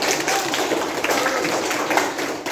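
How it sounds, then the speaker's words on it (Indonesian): Classroom students clap for group 2, a steady dense patter of many hands that holds at an even level throughout, near and moderately loud. "tepuk tangan dulu untuk kelompok 2"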